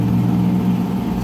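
A Honda Scoopy FI scooter engine, just fitted with a repaired starter, runs with a steady, loud, low mechanical hum that holds even throughout, close by with no voices.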